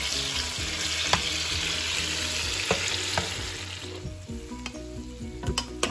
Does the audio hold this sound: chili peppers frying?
yes